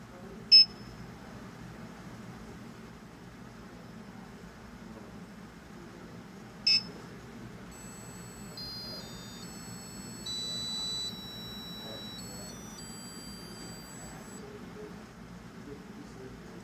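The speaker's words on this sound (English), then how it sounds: "Every time the paddle is missed, a red LED will illuminate and making a buzzing noise." In a MATLAB Pong game, a buzzer beeps when the paddle misses the ball, two short sharp beeps several seconds apart over a faint background hum, followed by a quiet electronic melody of steady tones.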